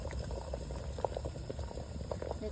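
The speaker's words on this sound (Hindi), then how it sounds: "चुली पानी गरम कर दे" Water heats on a village stove for semolina cake, bubbling in a steady, close, moderately soft boil with small popping bursts throughout.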